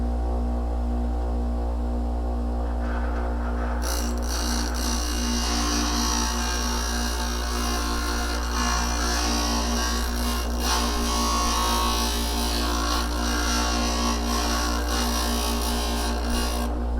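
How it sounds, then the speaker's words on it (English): A Wen bench grinder sharpens a chisel: a steady motor hum runs throughout, joined after a few seconds by a continuous hiss and scrape of steel against the wheel. No one speaks. "we're going to sharpen this part of the chisel and we're going to hold it at that"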